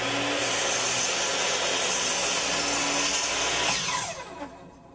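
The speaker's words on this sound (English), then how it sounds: "pull the saw forward" Power saw ripping through a board as wood is milled, taking off about a quarter inch; a loud, dense, continuous cutting roar fills the clip, then drops away as the blade winds down near the end.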